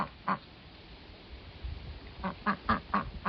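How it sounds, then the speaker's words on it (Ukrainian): Nearby quacks of a female duck calling to a drake: one quack early, then a quick run of four or five rhythmic quacks toward the end, over faint outdoor village background. "Качка запрошує качура до кохання"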